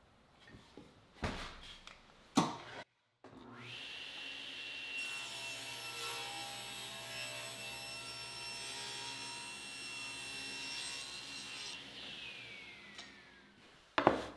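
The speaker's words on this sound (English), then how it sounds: "Back at the table saw, I'm going to rip this at 1 inch." A table saw rips a board lengthwise for molding, with a steady sustained whine and cutting rasp for about seven seconds, bracketed by brief knocks and handling noises before and after.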